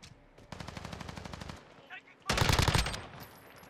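Rapid automatic gunfire in Call of Duty Modern Warfare 2v2 Alpha, a sustained burst, a short pause, then a louder, denser close-range volley with a few scattered shots.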